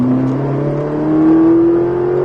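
A Ferrari engine accelerating on a race track during a driving course, a loud steady rising tone as the revs climb smoothly, close and unbroken, with no talk over it.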